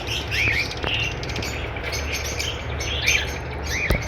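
A blue pastel breeder pair of birds chirps in short, bright calls, a few tweets in quick clusters over faint background hum, fairly close and clear.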